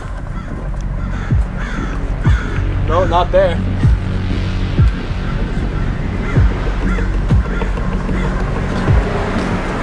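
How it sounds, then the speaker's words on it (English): Crows caw noisily and repeatedly over a steady outdoor rumble, with a person speaking briefly partway through. "The birds are making a lot of noise."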